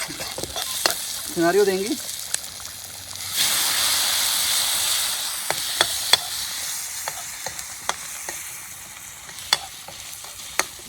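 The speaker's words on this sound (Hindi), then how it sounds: "ज़बरदस्त तरीके से मटन लीवर यहाँ पे रोस्ट हो रहा है कढ़ाई के अंदर, उस हर्ब्स के साथ, वाइल्ड हर्ब्स के साथ।" Mutton liver roasts with wild herbs in a kadhai over a campfire, giving off a steady close sizzle and hiss. Sharp ladle clicks and scrapes break in while the food is stirred, and a person talks briefly near the start.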